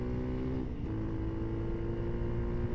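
Heard from the rider's position, a Honda CRF300L motorcycle engine drops down to fourth gear. A brief dip in the steady engine drone comes about three-quarters of a second in, and the revs rise and hold after it. The sound is fairly quiet, with wind mixed in.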